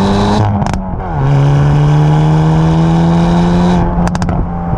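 A loud Hyundai i30 N engine revs up and holds a strained drone while accelerating, with gear shifts at the start and end, heard from inside with the windows closed.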